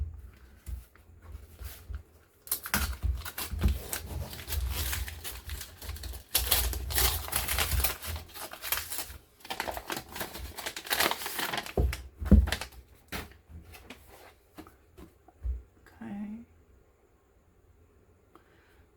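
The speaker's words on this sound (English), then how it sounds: "Okay, book 18, we have this blue wrapping paper" Blue wrapping paper is torn and crumpled off a book, giving close, loud bursts of crinkling and ripping with short pauses, then settling into quieter rustles.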